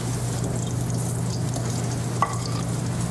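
Shiitake mushrooms and green onions sauté in hot pan drippings, giving a steady close sizzle and crackle with a low constant hum beneath and a brief clink partway through.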